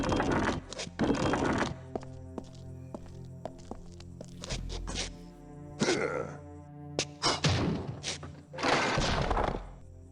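Heavy wooden catapult reloading in the game Warcraft Adventures makes several dull thunks and thuds at irregular intervals, with game music and effects playing between them.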